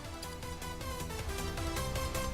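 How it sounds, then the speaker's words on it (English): Eurobeat music plays in the driving video game JDM, a fast, dense electronic track with a driving pulse and synth layers, steady and fairly quiet under the gameplay. "what you're hearing right now is Eurobeat"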